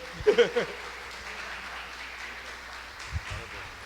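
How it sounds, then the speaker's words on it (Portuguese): A church congregation applauds during a worship service, a steady wash of clapping lasting several seconds, with a voice briefly heard at the start. "Aplaude o Senhor aí."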